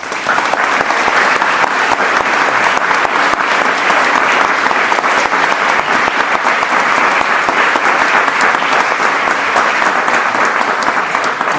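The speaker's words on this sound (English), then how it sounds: "One more round of applause for all our winners, please." An audience at a volunteering celebration applauds its award winners, sustained dense clapping that stays loud and steady throughout with no talk over it.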